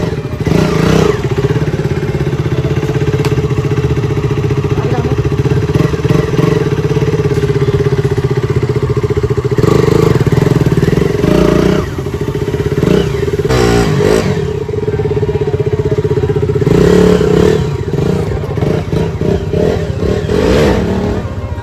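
A TVS Apache RR310 motorcycle engine idles steadily up close, with a loud low drone and a few brief revs and mechanical clatter breaking through at intervals.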